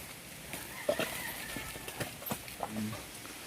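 Hooves of a horse hauling a heavy load of produce clip-clop on a hard surface, a few uneven steps close by, with people talking over them.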